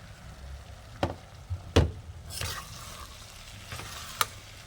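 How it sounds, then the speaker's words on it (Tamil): Potato, carrot and beans sautéing in oil for a veg kurma, with a soft steady frying hiss and a few clear stirring knocks and scrapes of a spoon in the pan, fairly quiet and without talk. "இது கொஞ்சம் எண்ணெயில் அப்படியே வதங்கட்டும்."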